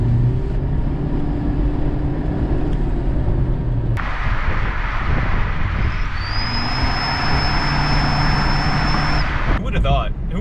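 Toyota Prius accelerating with an aftermarket turbo exhaust whistle fitted, giving a loud steady road and engine roar that shifts partway through, then a thin rising whistle tone holding over the rumble for several seconds.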